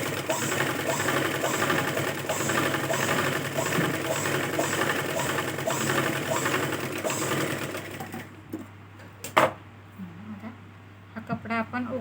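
A sewing machine stitches a blouse piece with a steady, close, rapid mechanical whir and clatter, then stops, leaving brief handling clicks while someone talks in the background.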